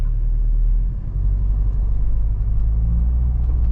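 A Mahindra Thar's engine runs with a deep steady rumble, close and loud, while the vehicle sits stuck in beach sand on the Arabian Sea coast in four-low with the differential lock engaged.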